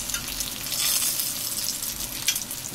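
Sauce sautéing with plenty of onion and garlic in a pan, a dense, continuous close-up sizzle with some stirring movement and no voices.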